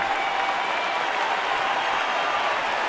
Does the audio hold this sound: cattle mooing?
no